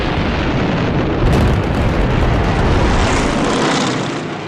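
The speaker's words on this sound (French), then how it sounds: "Avec cette vague d'avions japonais," A wave of Japanese aircraft attacking Pearl Harbor makes a loud, sustained roar of propeller engines close by, with a rumbling, explosive swell partway through that fades slightly toward the end.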